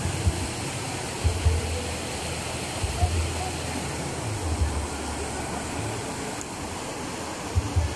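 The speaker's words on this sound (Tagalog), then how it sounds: "Dito kami ngayon sa isang ilog." A river in Barangay Manloy, Carigara, Leyte rushes with a steady broadband wash of flowing water, close and continuous, with faint low bumps mixed in.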